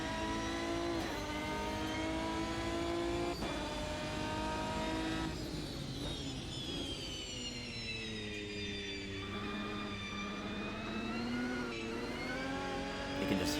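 2005 GT1 race car engine in Automobilista 2 at Catalunya, droning and shifting pitch as it revs through gears, steady and prominent with no talking over it.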